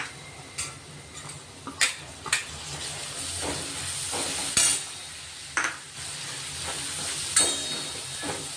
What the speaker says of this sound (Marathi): आता आपण टोमॅटो टाकून घेऊ